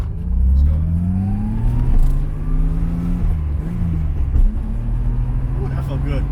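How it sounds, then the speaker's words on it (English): A car engine revs during a double-clutch gear shift, rising and falling in pitch as the throttle is blipped in neutral, with a steady interior rumble and someone talking over it. "While in neutral, we blipped, then we clutch in again and go in gear."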